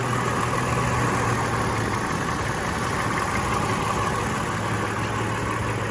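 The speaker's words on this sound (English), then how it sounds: "you get to hear the sound of the engine more. And it's a good sounding engine" Toyota FJ Cruiser's 239-horsepower 1GR-FE engine with an original TRD intake idling under an uninsulated hood: a steady, even hum with a constant low drone, close and unchanging throughout.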